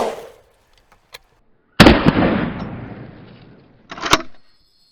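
A shotgun blast aimed at a watermelon in a ballistic high-speed test, one loud sharp report followed by a decaying rumble and a second burst of noise about two seconds later, with a brief click before the shot.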